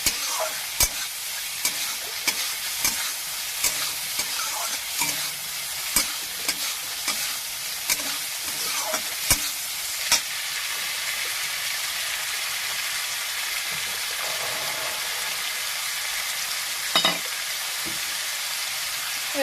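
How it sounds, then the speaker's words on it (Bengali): Shrimp fry lightly in a pan with a loud continuous sizzle. Regular spatula taps and stirring clatter come in the first half, then the sizzle continues mostly alone. "আমি চিংড়ি মাছটা হালকা করে একটু ভেজে নেবো"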